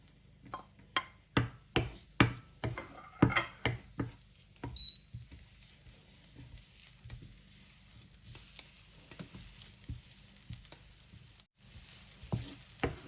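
Garlic frying in hot oil in a pan, sizzling with a string of sharp popping and stirring taps at first, then settling into a quieter, patchy crackle, with no talk.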